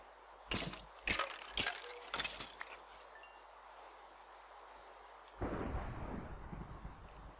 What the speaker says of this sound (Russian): Ух ты, еще и гроза началась.